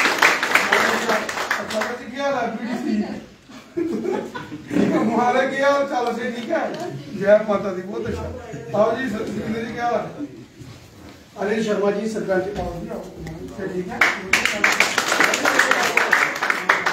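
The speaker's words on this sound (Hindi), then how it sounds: "जोरदार तालियों से स्वागत।" A crowd at a political gathering in Jammu, where activists join the BJP, claps in bursts of applause at the start and end, with someone speaking loudly over a microphone in between.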